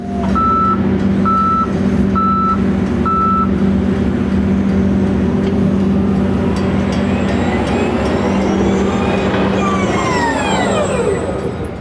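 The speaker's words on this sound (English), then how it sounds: "just the backup alarm is the only thing making noise right now" A Volvo L25 electric compact wheel loader sounds its backup alarm, a loud, close series of four evenly spaced beeps over a steady mechanical hum, followed by rising and falling whines as the machine moves.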